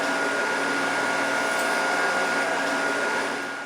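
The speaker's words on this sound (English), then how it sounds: "we're going to hit them on this wheel to brighten" A polishing wheel buffs Purple Heart medals to brighten them, giving a steady loud whirring motor hum with a high grinding edge that stays constant and tails off slightly at the end.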